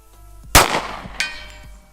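A Devil Dog Arms 3.5-inch 1911 pistol fired outdoors with a target at 100 yards. One sharp, loud shot is followed soon after by a fainter metallic clang and a quick decay.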